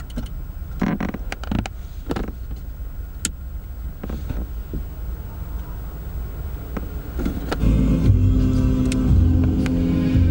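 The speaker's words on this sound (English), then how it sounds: "let's start the vehicle." A Nissan Qashqai J10's engine cranks and starts after scattered clicks and knocks, settling into a steady, close idle rumble.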